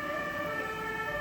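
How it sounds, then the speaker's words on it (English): Fire engine sirens wail steadily on the Miniatur Wunderland model railway layout, responding to an apartment fire. Several sirens layer into a continuous, even drone with no voices. "They get lots of fire engines, not just the ones from the central fire station, but also from other areas on the layout. Lots of sirens."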